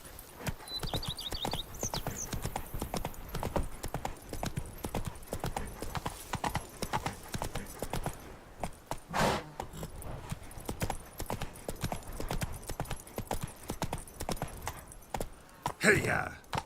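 Hooves of Roach, a horse in The Witcher 3: Wild Hunt, clip-clop in a steady walking rhythm throughout, close and moderately loud, with a rider's voice calling out briefly over the steps.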